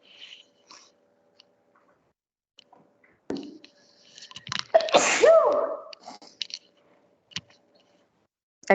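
A single sharp sneeze bursts out in the middle of an otherwise quiet room during a biology class session, surrounded by a few faint clicks and small mouth noises.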